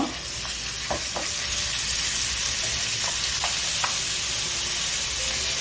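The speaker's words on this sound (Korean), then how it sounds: "식용유 1티 넣어주세요. 네, 고기 먼저 넣고 볶을게요." Meat stir-frying in a teaspoon of cooking oil for sundubu-jjigae, a steady loud sizzle with repeated scrapes and clinks of a utensil against the pan, no voices.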